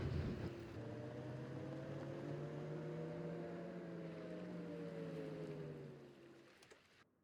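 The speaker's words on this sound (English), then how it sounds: "whilst the ferry is driving us across" A ferry carrying a player across water in Farming Simulator 25, its engine a steady low drone with tonal harmonics that slowly shift, holding on for several seconds before fading out near the end.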